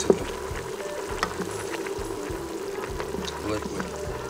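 Demi-glace pours and trickles softly into an Instant Pot of short ribs with faint splashes and clinks, close by, while a voice talks over it.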